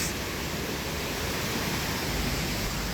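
Steady, full rush of flowing water churning through Clifton Gorge, like a torrent in a narrow rocky channel, continuous and close with no voices.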